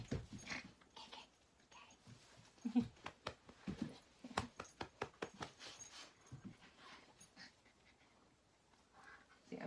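A dog whimpering and panting close by, a run of quick rhythmic breaths and soft whines in the middle that fade toward the end, fairly quiet, with a brief word spoken.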